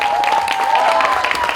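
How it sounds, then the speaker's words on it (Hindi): Loud applause from an event crowd greeting actor Varun, a dense, continuous wash of clapping with a steady tone running beneath it. "एक बार जोरदार तालियां वरुण के लिए"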